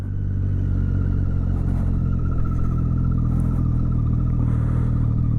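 A motorcycle engine idles steadily and close, a continuous low rumble with a faint whine, running alone with no talking, at night just before setting off on a ride.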